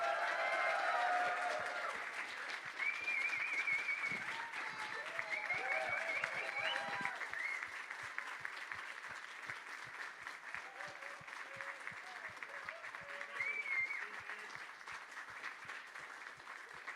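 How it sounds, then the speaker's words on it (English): At a combat sports competition, a crowd applauds a gold medal trophy winner. The clapping runs steadily for the full stretch at a moderate distance, with scattered cheers and voices mixed in, and it thins slightly toward the end. "give yourselves another massive round of applause"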